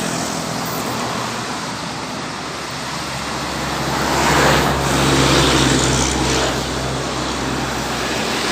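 A road bus, the PT Pelangi coach known for its sporty nickname, passes along a straight road, its engine and tyre roar swelling to a broad rush midway before easing, with steady traffic noise behind.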